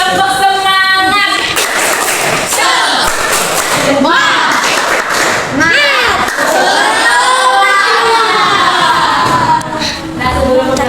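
A class of children in a school lesson chants and claps loudly in unison, with thumping rhythmic claps and shouted chant lines filling the room close by.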